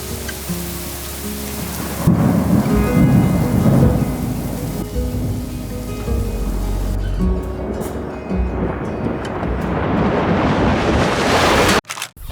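Heavy rain pours steadily at 3 a.m. during a thunderstorm as deep rumbles of thunder roll through, swelling loud and close before the sound cuts off abruptly at the end.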